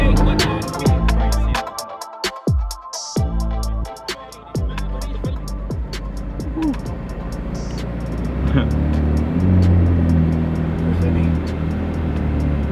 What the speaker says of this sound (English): There's a Ferrari.